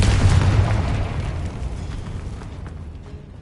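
A Confringo spell blasts in Hogwarts Legacy, a loud booming explosion that hits at once and then rumbles and decays over about three seconds.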